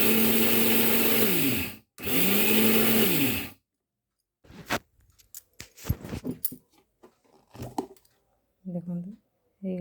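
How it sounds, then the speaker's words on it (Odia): Electric mixer grinder whirring loudly as it grinds roasted rice in its jar, two sustained bursts with a brief stop between, then clinks and handling sounds and a voice speaking at the end. "ମୁଁ ଗ୍ରାଇଣ୍ଡରରେ ପୁରେଇ ଦେଇଛି ଗ୍ରାଇଣ୍ଡର ଜାରରେ ତାକୁ ଟିକେ ଗ୍ରାଇଣ୍ଡ କରିଦେବା"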